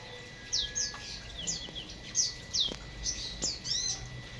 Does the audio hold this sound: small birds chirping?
yes